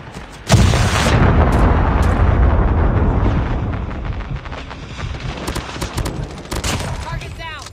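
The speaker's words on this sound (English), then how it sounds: "Friendly Predator missile inbound." A Predator missile strike in Call of Duty Mobile sets off a sudden loud explosion with a rumbling, crackling tail that slowly fades, followed by scattered game sounds.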